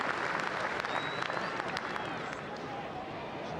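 A rugby crowd at a 1990 Scotland versus Argentina test applauds as a player leaves the field, a broad, distant wash of clapping and murmur that holds steady and eases slightly toward the end.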